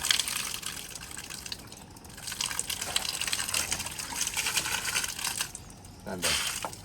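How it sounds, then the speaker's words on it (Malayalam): Muddy water gushes out of a water tank in a continuous rushing splash. The flow surges and eases in strength, with a louder burst near the end. "ചളി വെള്ളം"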